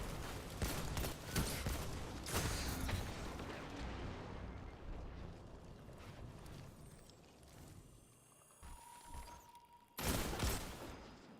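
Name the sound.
hand cannon gunfire in video game Destiny 2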